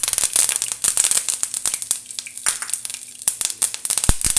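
Mustard seeds spluttering and popping in hot oil while tempering for a cauliflower egg podimas, a dense run of sharp crackles and pops with one louder burst near the end, close and without talk.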